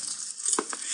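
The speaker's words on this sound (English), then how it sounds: "was frying eggs and pork" Eggs and pork frying in a pan as a radio drama kitchen effect, a soft steady sizzle with a couple of brief clinks of utensils against the pan.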